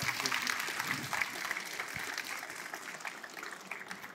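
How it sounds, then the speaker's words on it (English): Faint, distant applause from a security conference audience forms a soft, even wash of claps that holds steady from start to finish. "Please applaud Shamir"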